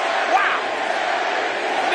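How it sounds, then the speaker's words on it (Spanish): A wrestling arena crowd at a WWE Raw event roars and cheers in a dense, sustained wash of voices, loud and continuous, with shouting mixed in. "Mira cómo la gente lo aplaude"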